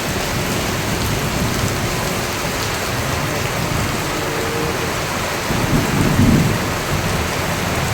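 Heavy rain pours steadily while a low rumble of thunder rolls in and swells toward the end.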